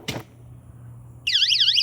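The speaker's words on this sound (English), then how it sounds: "as you can see, it turns on the alarm." A YoLink power fail alarm sounds after its USB power is unplugged: a loud, warbling electronic siren rising and falling in pitch, starting abruptly after a short thump and quiet pause.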